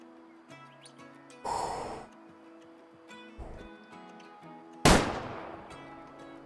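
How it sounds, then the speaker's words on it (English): A rifle shot fired at a mouflon in the hunting video game Way Of The Hunter: one loud, sharp crack with a quick trailing echo, after quieter in-game ambience and an earlier soft burst of noise. "What an incredible shot that was."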